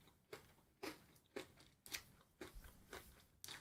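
Crunchy chocolate being bitten and chewed up close, a series of about seven crisp crunches spaced evenly and fairly quiet.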